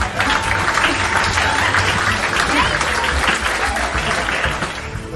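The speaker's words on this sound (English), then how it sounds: "Give us some applause." Sustained applause from a live event audience, a dense steady wash of many hands clapping at full strength throughout, with crowd voices mixed in.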